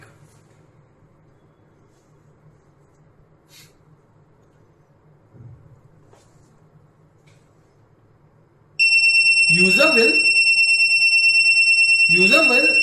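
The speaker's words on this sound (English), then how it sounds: "see a green light with a loud beep in the receiver unit" A loud, steady electronic beep with sharp harmonic tones from a Swarn Jal wireless water tank alarm receiver starts suddenly and holds to the end, with a person talking over it.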